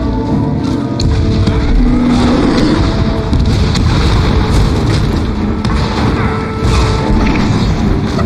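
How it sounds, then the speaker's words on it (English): Cannon fire booms repeatedly through a dense, constant roar of battle noise, with no pauses between the blasts, in a Guild Wars 2 player-versus-player match. "Fire all cannons."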